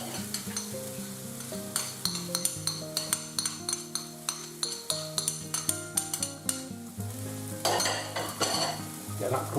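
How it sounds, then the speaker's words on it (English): Garlic and softened onions fry in a pan for beef stroganoff, with a bright sizzle under regular metallic stirring clinks. Background music with sustained tones plays alongside, and no one speaks. "Okay, they're starting to soften now, so I'm going to drop in the garlic."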